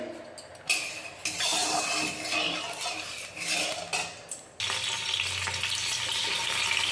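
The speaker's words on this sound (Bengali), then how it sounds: "পনিরগুলো ভেজে নিই আগে ছোটো করে টুকরো করেছি" Small pieces of paneer sizzle steadily in hot oil in a home kitchen. A metal utensil clinks and scrapes against the pan as they are stirred, and the frying grows louder and fuller partway through.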